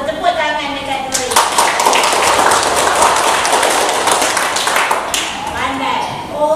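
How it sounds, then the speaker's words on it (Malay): A classroom claps for a pupil, a burst of quick, close hand claps building and holding for several seconds before tapering, with a teacher's voice at the start and end. "Tepuk tangan dekat Dori."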